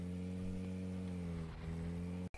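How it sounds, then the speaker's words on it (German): A motorcycle ridden indoors inside a falafel restaurant in a simulator game gives a steady, droning mid-pitched engine hum with a brief dip near the end, heard alone with no talk. "Manchmal fahre ich einfach hier drin Motorrad."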